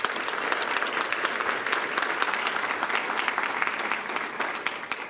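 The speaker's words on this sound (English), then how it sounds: "Just give them a round of applause." Audience applause at a scholarship breakfast, a dense, steady crowd of clapping hands that stays loud and even for about five seconds with no voices over it.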